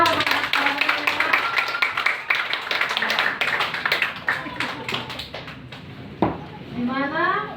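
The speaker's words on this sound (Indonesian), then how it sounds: "Coba ibu-ibu dan saudara sekalian yang hadir bisa kasih tepuk tangan yang meriah untuk anak sekolah minggu kita." An audience of parents and relatives applauds Sunday school children after a Christmas drama, giving a long stretch of rhythmic clapping that fades toward the end, with voices and chatter mixed in.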